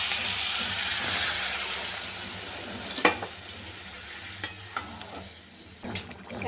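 Water poured into a pan of fried spice paste sets off a loud, hissing sizzle that eases over a few seconds, broken by several sharp utensil knocks and scrapes up close.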